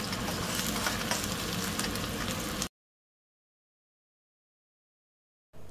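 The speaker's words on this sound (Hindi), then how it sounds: "प्याज को हमें हल्का ब्राउन होने तक फ्राई करना है" Onions sizzle steadily in hot oil, a dense crackling hiss that cuts off abruptly into silence, then briefly returns at the end.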